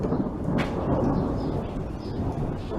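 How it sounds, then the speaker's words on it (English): Thunder rumbles low and continuous during a thunderstorm outdoors, a broad heavy roll filling the whole moment with a faint crack near the start, no voices. "I don't know if I want to hang out in a thunderstorm though."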